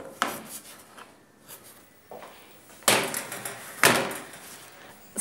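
Scones going into a gas oven at mark 6: an oven door bangs shut twice with sharp knocks, alongside scraping and clattering from the oven rack and tray, close by in a quiet kitchen.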